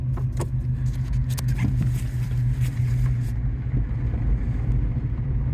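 A 1982 Saab 900 Turbo moving slowly in reverse and turning around in snow, its low engine hum steady and close, with faint tire and body noises and a few sharp clicks early on.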